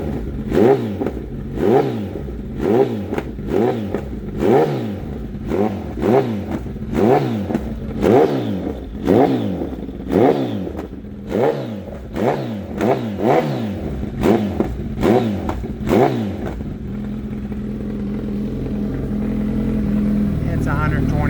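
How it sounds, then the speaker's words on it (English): A 2024 Kawasaki Ninja ZX14R's exhaust is revved about a dozen times in a steady rhythm, each loud close rise falling back with crackling pops, before settling into a steady idle. "I decided to give you a little pops and bangs exhaust."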